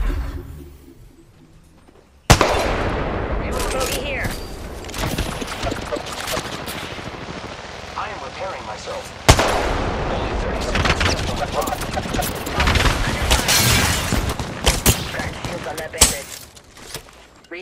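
Rapid video game shooter gunfire, with bursts of automatic shots and cracks over an ongoing firefight, loud and close, with frequent breaks and spoken callouts over the shooting.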